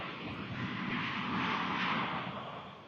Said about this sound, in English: We have airplanes flying by me right now.